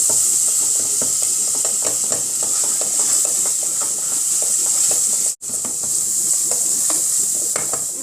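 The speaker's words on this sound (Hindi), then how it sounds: "मीडियम आंच के ऊपर हम इनको भूनेंगे।" Crushed red chilli masala roasts in a pan over medium heat for kaddu kofta, giving a steady, bright sizzle with frequent stirring scrapes throughout and one brief dropout midway.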